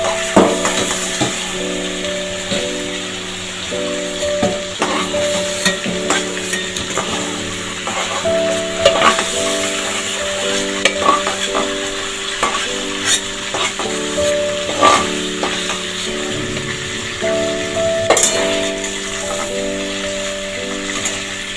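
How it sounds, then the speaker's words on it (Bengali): Chicken pieces for gondhoraj chicken kosha fry in oil in a pan with a constant close sizzle, punctuated by repeated stirring knocks and clatters, while a faint steady tonal hum runs underneath; no speech. "আবার মাংসগুলো দিয়ে দিচ্ছি। সবকটা মাংস আমি ভেজে নিই।"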